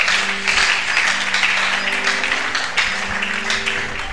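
A church congregation breaks into applause and acclamation for the glory of the Lord, a sustained bed of clapping with scattered shouts and a low musical hum beneath it.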